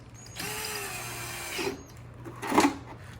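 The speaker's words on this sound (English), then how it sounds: "And you just attach your drill to it." A power drill turning a drain snake in a bathtub drain whirs steadily for over a second, then winds down; a brief mechanical rattle and clunk follow, close by.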